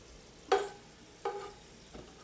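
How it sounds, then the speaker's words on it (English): Garlic deep frying in hot oil until golden, making garlic chips, heard as a few short sizzling bursts spaced apart, each flaring then fading into a quiet crackle. "at this point deep frying the garlic, and they're going to get nice and golden"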